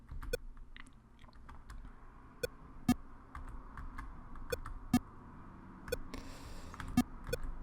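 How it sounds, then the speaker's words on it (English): Arrow keys on a computer keyboard click in sparse, separate taps, quiet and close, during play of the arcade game Pong, with a low hum in the background. "I will beat you, computer, with my arrow keys."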